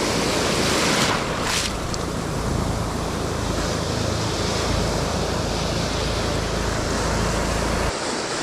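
Ocean waves crash and wash continuously against a reef, a loud, roaring surf with wind buffeting close by and no talking.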